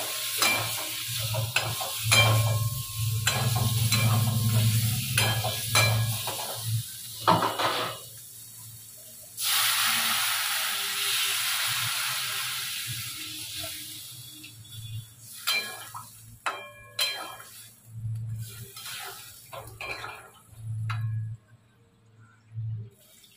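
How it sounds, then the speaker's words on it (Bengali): Egg masala with ghee is stirred in a pan with a close, scraping sizzle in bursts, then water pours in and the frying hiss changes over about twenty seconds; no one speaks. "এবার ঘি করলা আর ডিমটা দিয়ে একটু নেড়ে জল দিয়ে দেবো।"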